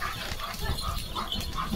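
Leo, a German Shepherd, barks at horses outdoors in the rain, giving a few short, rough barks at moderate distance over a soft background.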